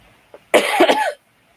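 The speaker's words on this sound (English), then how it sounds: "I'm not coughing as much either as I get ready to cough" A single close, harsh cough burst lasting about half a second, preceded by a faint catch of breath, then quiet.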